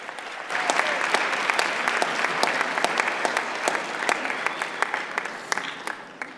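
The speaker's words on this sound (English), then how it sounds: "If we can give them a round of applause for that." Sustained audience applause at a launch event for technologies for people with disabilities, steady dense clapping filling the room from start to finish with no speech over it.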